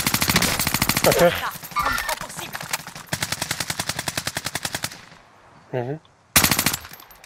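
Automatic rifle fire in a Call of Duty Warzone match on Caldera, several loud, close, rapid bursts with evenly spaced shots and short pauses between them, plus a brief whooshing effect and two players speaking French.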